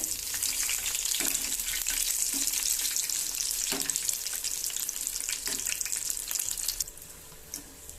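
Agathi flower bajji deep-frying in oil, with a dense, steady bubbling sizzle and occasional pops that drop off sharply near the end.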